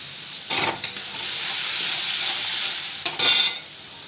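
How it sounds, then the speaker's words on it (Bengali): Bengali fish curry (macher jhol) simmers in a pan with water, cumin powder, turmeric and salt, giving a steady close sizzle and hiss. Short scraping stirs break in near the start and again around three seconds. "দেখুন ঝোলটা কষাচ্ছি"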